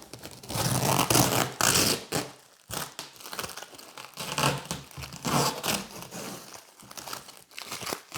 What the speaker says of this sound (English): Start by taking this tape off.